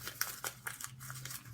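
A sheet of watercolor paper is crumpled by hand, close and crisp, with several crackling, rustling bursts following one another in an unbroken stretch.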